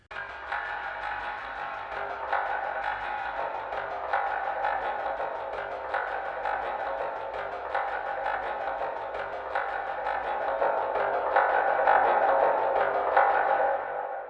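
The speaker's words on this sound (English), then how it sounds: "you can turn something like a palm mute into what sounds like" Guitar palm-muted chugs from a free Kontakt virtual instrument smeared into a washy, ambient drone by a heavy diffusion effect, swelling slightly toward the end, with no talking.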